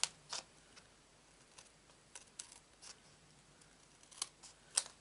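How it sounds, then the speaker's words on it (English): Scissors snip strips off paper in a few quiet, crisp cuts spaced irregularly, close and faint against a hushed room. "I'm going to cut some strips"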